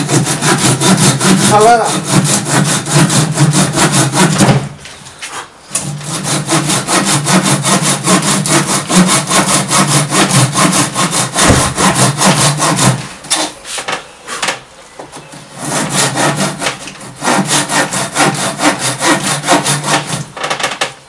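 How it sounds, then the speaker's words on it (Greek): A hand saw cuts through wood during a chair rebuild, with steady rhythmic back-and-forth strokes, loud and close, broken by a few short pauses. Someone speaks briefly. "Κόβουμε λίγο πιο μέσα από το σημείο που είδα."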